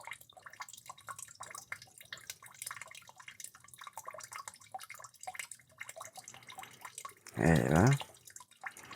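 Water draining out during a purge, a faint irregular stream of drips and trickles, with a brief spoken voice near the end.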